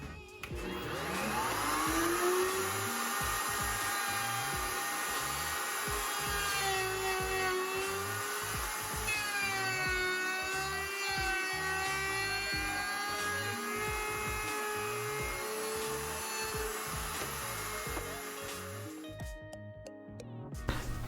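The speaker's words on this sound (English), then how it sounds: "I went back with a 1/2 inch straight bit on the holes on either end and in the middle." Router fitted with a 1/2 inch straight bit cutting holes in wood for HVAC vent covers, a loud, steady high-pitched whine that shifts in pitch as it cuts, then spins down at the end.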